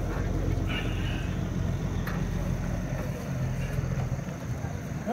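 A truck with a 350-horsepower engine and a CH-type nose at an outdoor truck show, rumbling steadily in a low, loud idle throughout.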